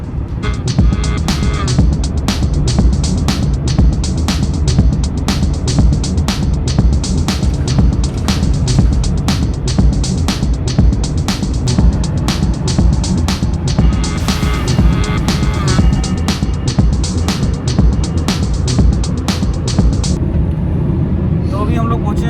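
Maruti Ritz petrol/CNG car driving on an Indian highway: a steady, loud interior drone of engine and road noise with dense tyre rumble, and someone talking continuously over it.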